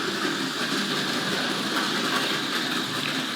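Hornby model goods train running around a layout track, giving a steady, close whirring rumble with faint rail clatter that continues evenly throughout, with no talk.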